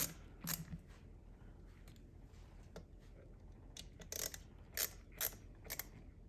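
Ratcheting wrench clicks tightening bolts during installation of a Mishimoto aluminum performance radiator in a MK3 Toyota, with a few quick bursts of mechanical clicking and metallic ticks against a quiet background.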